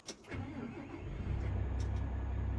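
A tractor engine starts in Farming Simulator 25, cranking briefly then settling into a steady, low, rumbling idle that grows louder and fills the background, with a few light clicks above it.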